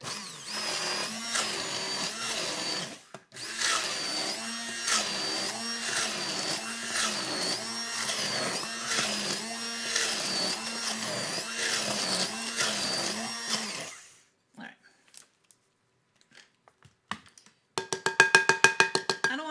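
A blender pureeing carrots, whirring loudly in pulsing bursts with a brief pause, then stopping near the end before a short rattling mechanical buzz.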